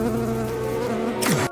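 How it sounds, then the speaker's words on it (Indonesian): Steady, close buzz of a housefly hovering beside an old man in an anime scene, a continuous droning whine that ends in a brief whooshing sweep. "Di saat itu ada seekor lalat terus berterbangan di samping kakek Takamura."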